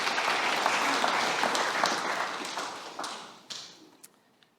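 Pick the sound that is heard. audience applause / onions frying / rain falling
audience applause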